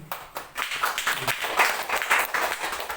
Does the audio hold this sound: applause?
yes